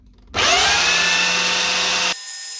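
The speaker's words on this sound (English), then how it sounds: "and I'll get that belt sander there" A belt sander starts up abruptly and runs loud and steady against a metal caravan hitch part on an Alko stabiliser hitch, then cuts off, leaving a lower hum.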